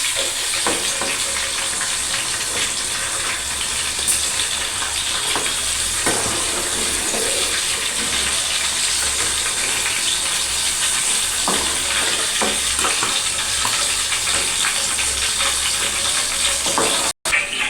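Broad beans (chikkudukaya) fry in oil in a pan with a loud, steady sizzle and hiss that runs throughout, broken by occasional stirring scrapes and with no talking.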